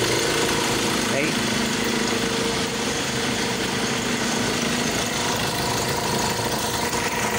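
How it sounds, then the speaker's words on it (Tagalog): Ford Everest engine idling steadily in a workshop during auto tensioner and drive belt replacement, a continuous close mechanical hum with constant vibration and no revving. "Try muna natin yung makina."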